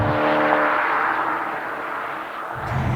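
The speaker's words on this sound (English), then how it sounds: "It's just such a good sounding engine" A Porsche Panamera GTS with a 430-horsepower engine gives a steady, full roar that eases slightly mid-way and then swells again, loud and close, with no talking.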